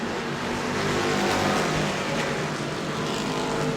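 Pure Stock race cars lapping a track, a continuous dense engine roar from the field with no break and no voices.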